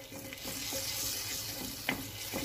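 Butter melting with turmeric in a pan over low heat, giving a soft steady sizzle with a few light clicks and stirring taps, close and fairly quiet.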